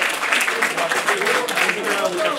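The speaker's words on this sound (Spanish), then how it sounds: "Un aplauso para ella, por favor." A hall audience at a science week presentation in Vinaròs claps steadily, a dense wash of applause that holds level for a couple of seconds.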